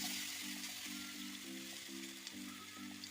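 Sliced banana frying in ghee in a kadai, a steady soft sizzle with faint crackles, low and even throughout, with a periodic hum in the background.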